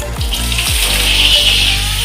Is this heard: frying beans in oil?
yes